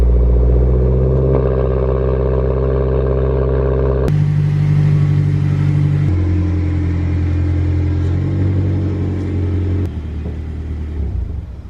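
A Corvette drift car's engine cold-starting: a loud, steady low rumble with harsh mechanical clatter, the idle stepping up and down in pitch several times as it settles, close and alone with no talking.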